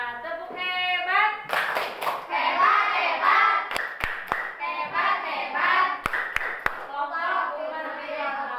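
A school class performs the rhythmic 'tepuk hebat' clapping routine, with sharp group claps breaking through children's chanting voices at close range in an Islamic religious education lesson.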